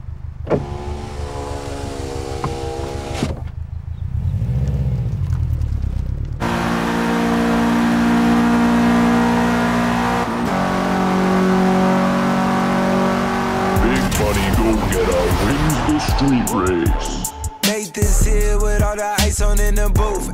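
An engine revs hard and roars close by as a stolen car accelerates away, with harsh, shifting engine tones, a mechanical whir and a brief break near the end, mixed with voices.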